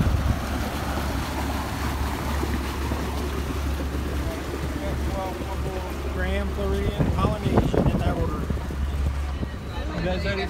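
A steady low engine rumble with wind buffeting, like riding on a motorboat; people talk intermittently over the drone.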